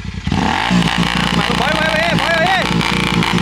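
A Royal Enfield GT650 motorcycle with an aftermarket exhaust revving hard at full throttle, a loud, sustained roar with rising and falling pitch swells, close by, under someone talking.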